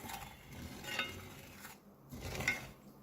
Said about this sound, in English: Then you just stir it